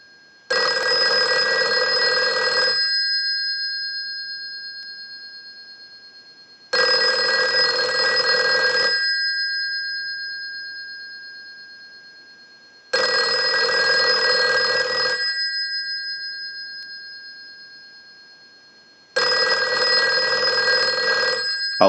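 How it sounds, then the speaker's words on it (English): A Western Electric 302 rotary desk telephone bell rings in four long bursts, each about two and a half seconds, separated by silent gaps of roughly four seconds, loud and close with no talk. "send a ring cycle like you were getting a call"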